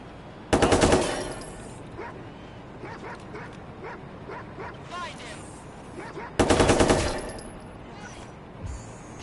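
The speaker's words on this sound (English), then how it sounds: "open fire" Automatic gunfire in the video game Watch Dogs 2, two loud, close bursts, one at the start and one near the end, with game voices and yelping sounds between them.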